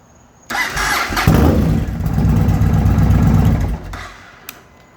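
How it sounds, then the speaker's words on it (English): A Yamaha Warrior 1700 motorcycle engine cranks and fires up loudly, then settles into a deep, rumbling idle for a few seconds before the sound drops back, heard close with no talking. "Let me start the bike."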